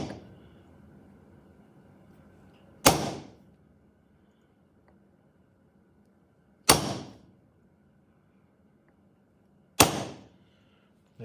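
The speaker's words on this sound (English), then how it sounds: "So the tool is a centre punch" Three sharp metallic strikes from a centre punch being tapped to mark the corners of a metal workpiece, evenly spaced several seconds apart, each loud and close with a quick ringing decay over a quiet background.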